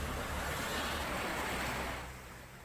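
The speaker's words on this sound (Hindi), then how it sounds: "और ये देखिए गाड़ी निकल रही है तो लहरें उठ रही हैं।" Water surging as a vehicle drives through a flooded road during heavy rain, a loud broad rushing wash that holds steady and then eases off near the end.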